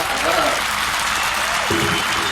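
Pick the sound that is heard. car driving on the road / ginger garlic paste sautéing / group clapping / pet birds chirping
group clapping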